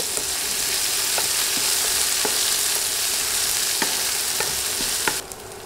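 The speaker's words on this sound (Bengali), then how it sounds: "নেড়ে পেঁয়াজ নরম হয়ে আসা পর্যন্ত ভাজব।" Sliced onions fry in oil in a pan for an okra curry, a loud, dense continuous sizzle with scattered scrapes and taps of a spatula as they are stirred, nearby, without voices.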